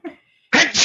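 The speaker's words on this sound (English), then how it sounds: "So I don't know why I'm sneezing" A single close, loud sneeze from a man during an indoor interview, a burst of breathy noise after a brief soft vocal sound and a short pause.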